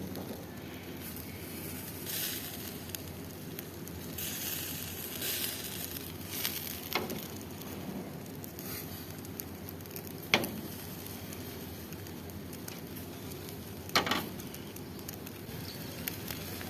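Ghee-coated chicken tikka leg pieces roasting over an open fire on a BBQ grill, giving a soft, steady sizzle and crackle with occasional sharp pops, fairly quiet and close, with no talking.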